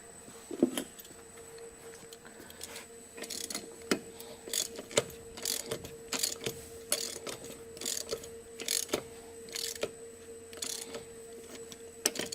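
Lug nuts being tightened on a hub-centric wheel of a 7.3 Powerstroke 4WD truck, heard as a series of sharp metallic ratchet clicks and clanks in irregular bursts, close and moderately loud, with no talking.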